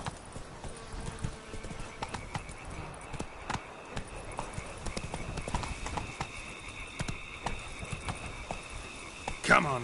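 A horse gallops in The Witcher video game with rapid, rhythmic hoofbeats that run steadily throughout, and a brief whinny near the end.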